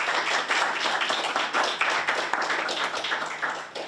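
An audience claps at a Breiðablik sports awards ceremony, a loud, dense burst of hand claps with individual sharp hits standing out, swelling and then slowly thinning over several seconds with no voices.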